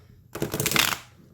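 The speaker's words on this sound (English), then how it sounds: "Let's go ahead and give it a shuffle." A deck of oracle cards on good cardstock gets a single quick riffle shuffle, a crisp close burst of fluttering snaps lasting under a second in a quiet room.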